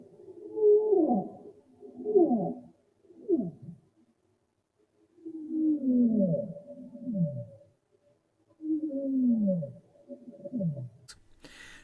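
Blue whale vocalizations come as a series of low, drawn-out descending moans and groans, grouped in bursts of two or three with quiet gaps between them, clear and alone.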